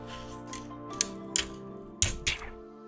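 Protective plastic film peeled off a Razer Stream Controller, a few sharp crackling rips and ticks close up over a faint background hum, with short pauses between pulls.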